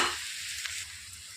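Finely chopped green chillies fry in oil over a low flame for a dhaba-style capsicum egg fry. A soft, steady sizzle runs throughout, close and fairly quiet.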